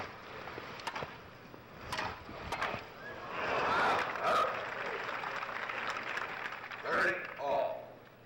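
A crowd at a 1972 US Open women's tennis semifinal breaks into applause that swells and fades in waves, fairly distant, under a commentator's voice and among sharp ball strikes.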